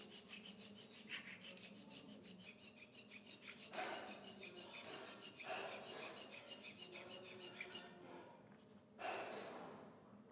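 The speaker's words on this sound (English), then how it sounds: "I use a ground sharpening stone with a flat surface" A flat sharpening stone is rubbed against a grinding machine's metal surface in repeated rasping strokes, faint and close, each stroke a gritty scrape separated by brief pauses.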